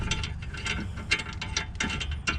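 A ratchet loosens the top brake caliper bolt on a BMW E46 330i, giving close, rapid clicking strokes in quick repeated bursts with no talking.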